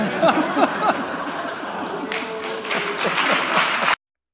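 Applause from a political audience in Spain, a steady patter of many hands clapping at moderate level with scattered sharper claps, ending abruptly.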